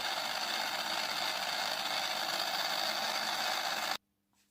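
A Fly slot car's small electric motor runs steadily with freshly greased gears, giving a constant close whirring buzz for about four seconds before cutting off abruptly into near silence.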